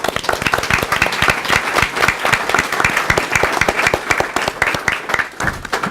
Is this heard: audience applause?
yes